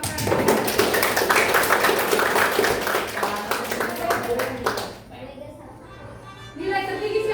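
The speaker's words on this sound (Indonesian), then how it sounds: "Tepuk tangan dulu buat kelas" Tenth-grade class clapping hands together in a classroom, a dense burst of applause for about five seconds that then fades, with voices mixed in.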